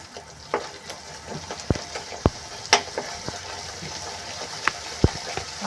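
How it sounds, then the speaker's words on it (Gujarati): Spinach gravy for palak paneer cooks in a pan, giving a soft bubbling sizzle punctuated by sharp spoon taps and scrapes against the pan, close and moderately quiet. "હવે આ ગ્રેવીને આપણે બરાબર પકવી દઈશું પહેલાં, કારણ કે પાલક તો આપણે બોઇલ કરેલો છે."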